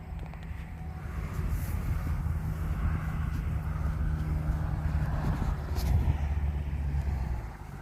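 A fast RC plane flies on a windy day, its engine a steady distant drone with slight swells and wind buffeting the microphone.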